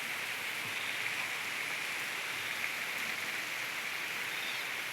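Light rain falls steadily outdoors during a walk, a continuous even hiss of drops with no breaks, fairly loud and close, with no talking.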